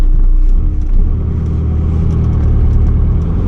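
A Volkswagen Beetle engine fitted with a South Bend Stage 2 clutch revs loudly and steadily close by, a deep continuous rumble with slight rises in pitch, running alone without talk.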